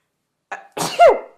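A single sharp sneeze bursts out after a short intake of breath, loud and close, then cuts off into silence.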